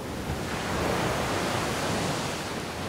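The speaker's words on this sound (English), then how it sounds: "Whoa, look how high these waves are." High ocean surf pounds a beach in Jalisco, Mexico, a steady, loud broadband roar of breaking waves and wash, with no voices.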